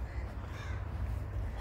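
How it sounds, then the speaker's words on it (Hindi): A crow at Okhla Bird Sanctuary in Delhi caws once or twice, fairly faint over steady low outdoor rumble and wind. "हाँ, कौआ है।"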